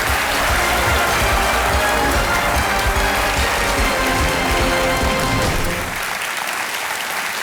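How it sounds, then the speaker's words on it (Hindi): A studio audience on a television quiz show claps loudly and continuously for several seconds, easing off slightly toward the end. "इधर आ जाओ भैया, ताली बज जाए इनके लिए।"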